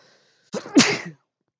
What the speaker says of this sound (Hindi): आप सभी लोगों को जो है छींकने की आवाज सुनाई पड़ गई होगी